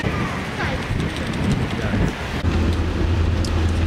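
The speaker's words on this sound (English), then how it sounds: "We are finally at Mount Fuji, but the wind is so strong." Strong wind roars at Mount Fuji, buffeting the microphone in a loud, continuous rumble that barely lets up.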